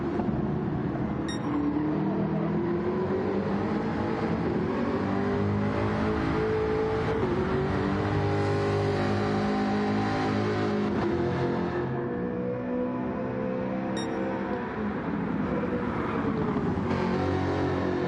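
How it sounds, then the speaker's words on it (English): Jaguar F-Type race car engine in a racing video game, a sustained loud engine drone with rising and falling revs through gear changes, heard alone without talk. "Magnificent looking beast and magnificent sounding beast that the Jaguar F-Type is"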